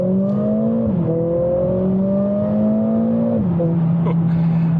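A Mercedes CLA45s AMG engine revs up with rising pitch, drops briefly at gear changes, and climbs again, a close, steady acceleration with no talking.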